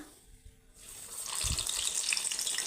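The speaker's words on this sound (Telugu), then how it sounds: "ఇదిగో ఇలా అనుకొని నూనెలో వేసుకోవడమే." Moong dal vada batter dropped into hot oil, followed by a steady, loud broadband sizzle that rises and holds, with a couple of low thumps near the start; no voices.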